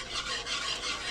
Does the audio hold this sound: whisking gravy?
yes